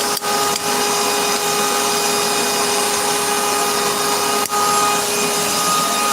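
Drill bit boring into forged steel in a blacksmith's forge shop, a steady continuous grinding hum held at even loudness throughout, with two brief dips in the middle.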